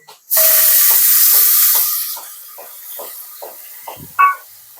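Tomatoes and coriander dropped into a hot tempering for Girnari khichdi set off a loud, sudden sputtering hiss that fades after about two seconds, followed by faint clicks and one short clatter.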